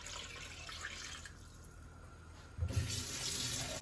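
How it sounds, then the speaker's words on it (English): Tap water pours steadily into a roasting pan for making turkey gravy in a home kitchen, a close, continuous hiss and splash that shifts and grows slightly fuller partway through, with no talk. "And then I'm going to cover this with enough water."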